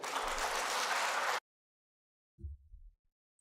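A televised debate audience breaks into applause, a dense wash of clapping lasting over a second that cuts off abruptly into silence, followed by a brief low murmur.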